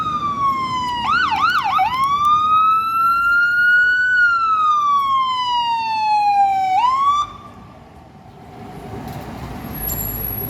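Fire apparatus siren passing through an intersection, a loud close wailing tone with rapid yelp bursts, sweeping up and down in pitch, then cutting off abruptly to leave faint traffic rumble.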